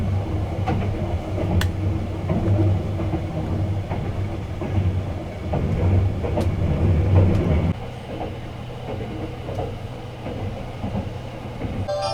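Sunrise Express sleeper train rolling into Tokyo, a steady low rumble of the carriage with faint rhythmic clicks and occasional squeals, easing to a quieter hum near the end; no voices.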